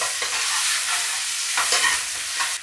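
Onions and tomatoes fry in a hot pan with a steady, loud sizzle and hiss while a utensil stirs and scrapes through them. The sound is close and no one speaks.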